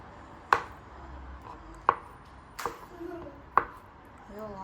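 A knife chops greens for spinach börek on a board, four sharp, separate knocks spaced a second or so apart, close and clear against a quiet kitchen.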